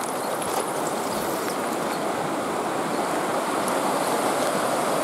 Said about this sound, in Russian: Здесь река еще шире.